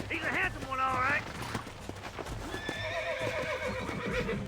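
Horse neighing with clip-clop hooves in the Red Dead Redemption video game, a wild horse being broken in; whinnies rise over steady hoofbeats while game voices talk throughout.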